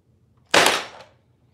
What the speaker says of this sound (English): I'm gonna see if I can suck that down and see how good this staple gun is